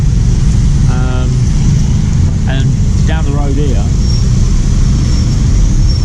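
Busy roadway traffic near a condominium development on Lakeshore Drive in Davao City, a loud continuous roar of passing cars and trucks close by, with someone speaking briefly over it.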